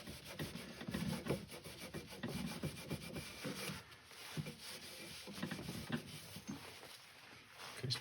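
Abrasive paste being rubbed over turned wood, a steady dry scrubbing friction that rises and falls in back-and-forth strokes, close and fairly quiet with no voices.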